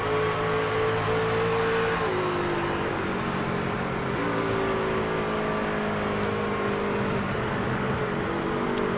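Race truck engine in iRacing held at high, steady revs, then dropping in pitch as it downshifts, loud and continuous without any voice.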